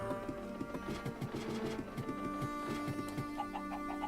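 Chickens clucking in a video game, a run of soft, repeated clucks over a steady mechanical hum, close and moderately loud, with no talking.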